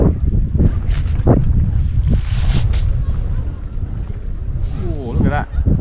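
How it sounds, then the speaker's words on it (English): Strong wind buffets the microphone on a riverbank during match fishing on the Tamar, a loud, continuous roaring rumble with gusty surges, and a voice is briefly audible underneath. "A little bit awkward because the wind's right in my face, it's quite strong."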